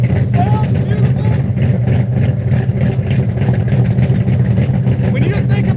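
A hot rod's engine runs loudly nearby with a deep, throbbing idle rumble, while people talk over it.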